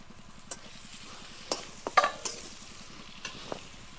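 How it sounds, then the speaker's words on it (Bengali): Prawns frying in a pan with onion, garlic and green chilli for a Bengali pat chingri dish, a steady soft sizzle with a few sharper clinks of stirring, close and fairly quiet, no talking. "এবার এই ভাজার মধ্যে আমি দিয়ে দেবো চিংড়ি"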